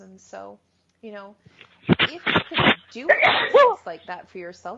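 A single sharp sneeze bursts out mid-conversation during an interview about healing work, close to the microphone, with people talking before and after it.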